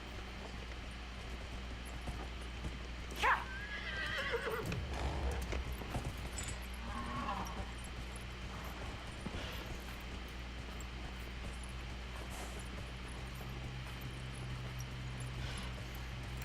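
Horse hooves clip-clopping in Dragon Age: Inquisition while a rider dismounts, with a brief whinny-like call near the start over a steady low game ambience.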